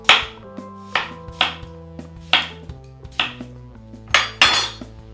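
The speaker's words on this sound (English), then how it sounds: "slice up our second cucumber" A knife slicing cucumber on a board, about eight crisp separate cuts in an irregular rhythm, each with a sharp knock, close and fairly loud, with no talk.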